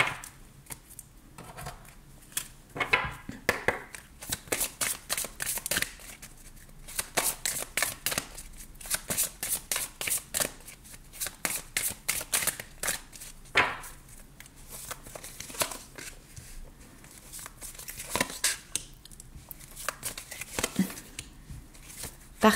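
Tarot cards are shuffled by hand for a reading, giving close, crisp riffling and flicking bursts in quick rhythmic runs with short pauses between them.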